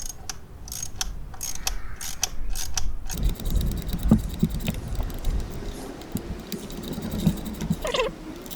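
A hand ratchet fitted with an extension bar clicks rapidly in short bursts while working on a Ford Fiesta ST engine bay during a throttle body and turbo elbow install, followed by clanks and rattling of the tool, close and fairly loud.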